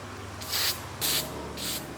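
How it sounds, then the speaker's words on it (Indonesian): Clear lacquer sprayed from a can onto a coconut shell mini vase, three short hissing bursts evenly spaced, each about a quarter second long, close and fairly loud. "kita semprot menggunakan clear supaya menjadi lebih mengkilap"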